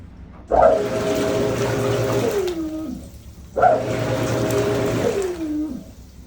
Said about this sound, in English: Sounds pretty rough. That sink is leaking.